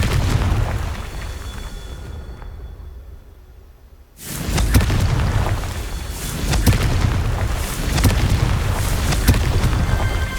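Confringo fire spell from Hogwarts Legacy going off with a loud booming blast after a brief near-silent lull, followed by continuing rumbling bursts and crackling impacts.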